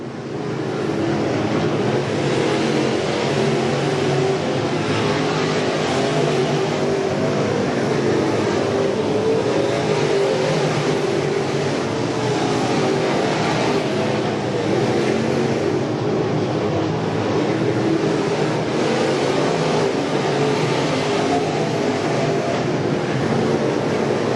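Crate-engine race cars lapping an oval track in a PCRA pro race, a steady loud roar of several engines droning continuously, heard from a distance with no break.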